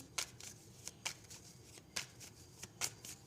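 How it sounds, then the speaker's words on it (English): Playing cards are shuffled up close in quick, crisp riffles, a series of sharp flutter bursts repeating at an irregular pace with quiet gaps between them. "I'm doing live shuffling"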